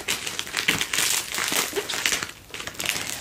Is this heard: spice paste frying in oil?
no